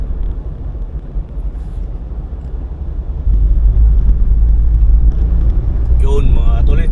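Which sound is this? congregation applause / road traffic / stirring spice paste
road traffic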